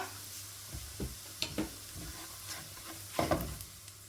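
About three tablespoons of garlic frying in a pan and being stirred, with quiet scattered scrapes of the spoon over a soft, faint sizzle and no voices.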